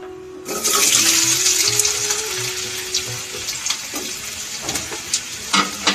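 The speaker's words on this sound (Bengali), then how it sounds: "দিয়ে আলুটা আমি একটু ভালোভাবে ভেজে নেব" Sliced potatoes frying in a pan with hot oil and tempered spices, a steady loud hiss and sizzle with scattered spits and crackles, close up with no talking.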